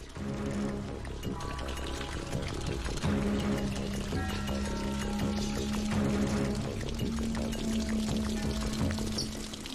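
Water is poured out of a container in a continuous splashing stream that runs for about ten seconds over a low, steady tonal hum.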